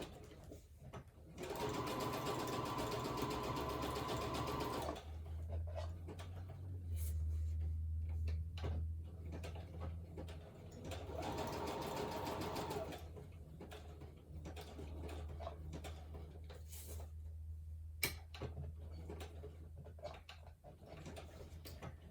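A domestic sewing machine running a narrow zigzag stitch, whirring in two long steady runs of several seconds each with quieter handling sounds and a low hum between them.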